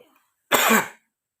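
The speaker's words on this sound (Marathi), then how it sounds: "माझा बी खोकला काय राही नाही उबळ येते" A woman gives a single short, harsh cough up close in a quiet room, a brief burst followed by silence.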